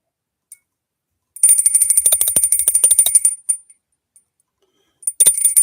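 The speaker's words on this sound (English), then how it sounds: "Here's a copper bell" A copper hand bell rings in two bursts, a bright sustained metallic tone with shimmering overtones, the first ringing for about two seconds before fading and a second shake starting near the end.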